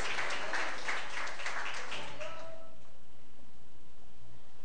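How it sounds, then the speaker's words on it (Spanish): Church congregation applauding during a Spanish-language sermon, a dense wash of clapping that fades away after about two and a half seconds, leaving quiet room tone. "Dele un aplauso a Cristo, mi hermano"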